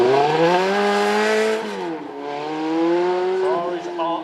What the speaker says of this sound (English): There it is, it's kicking in, valves open, beautiful V8 sync